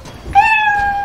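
A kitten meows once in the video game Smite, a short, loud, rising-then-level cry that comes suddenly and holds briefly before fading.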